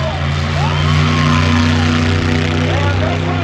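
A small-block V8 in a 1964 Ford Comet drag car at Tucson Dragway rumbles loud and close, its pitch rising and falling as it revs, with voices mixed into the noise.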